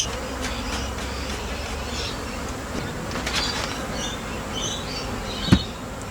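Honey bees buzz in a dense, steady drone around an opened beehive being smoked, loud and close throughout with a brief knock near the end and no talking.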